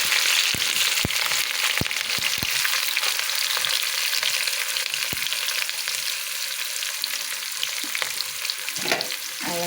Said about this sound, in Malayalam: ഉലുവ പൊട്ടി വരുമ്പോഴത്തേനും നമുക്ക് ഇഞ്ചി വെളുത്തുള്ളി പച്ചമുളക് ഉള്ളി എല്ലാം കൂടി ഇട്ട് കൊടുക്കുന്നു